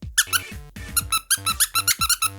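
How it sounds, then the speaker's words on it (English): A squeaky toy is squeezed over and over in quick, uneven bursts, each sharp squeak close and loud with brief gaps between, and no voices over it. "yeah, it's a squeaky toy."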